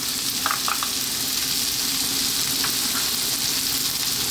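White cabbage hits a pan of frying curried rice with a steady, close hiss and sizzle, a few soft clinks of stirring over the crackle, no talking.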